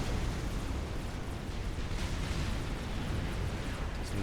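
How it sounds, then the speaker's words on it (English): Battleships fire artillery in the real-time strategy game Supreme Commander, producing a steady, faint, rumbling barrage of distant blasts blurred into a continuous roar with no clear individual shots. "at the distance which these battleships are firing at"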